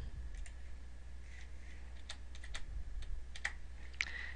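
Typing on a computer keyboard while editing an Excel spreadsheet: a few scattered key clicks, then short bursts of taps, close but fairly soft over a low background hum, with no talking.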